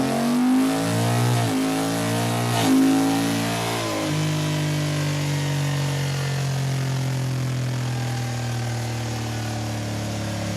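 A Honda motorcycle with a DCT gearbox revs up sharply in a few stepped blips as it shifts down, then settles into a steady, loud engine drone, heard close with wind noise and no talk.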